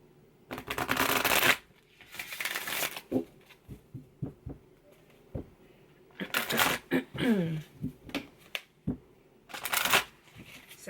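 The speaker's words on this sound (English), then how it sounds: "I'll pull 3 more cards from this" Cards from an Indigo Angel tarot deck being shuffled and pulled, with several loud riffling bursts separated by softer scattered card slaps and taps.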